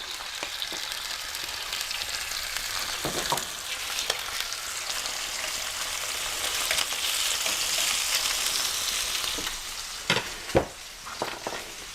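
Duck livers fry in a hot frying pan with a steady, close hiss and crackle that lasts throughout, broken now and then by sharper pops and a couple of louder clatters near the end.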